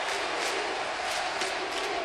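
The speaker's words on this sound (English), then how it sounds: "the Cardinal crowd is chanting MVP now" The home crowd at a Cubs–Cardinals baseball game at the Cardinals' stadium, July 2005, standing and chanting MVP, rises as a dense, steady roar with faint rhythmic swells, distant and continuous, with no talk.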